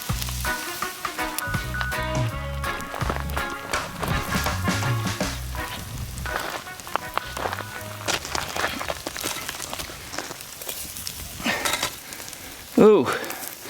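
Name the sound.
wild chicken cooking over fire on lava rocks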